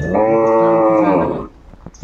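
A young dairy cow gives one loud, close, drawn-out moo at a cattle market, lasting over a second before trailing off, followed by brief faint knocks and a short voice at the end.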